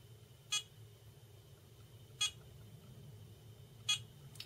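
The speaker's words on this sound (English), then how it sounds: "So you can see once it's firing, it's beeping." A Tria hair removal laser firing at full strength gives three short, sharp beeps spaced about one and a half seconds apart over a quiet steady hum.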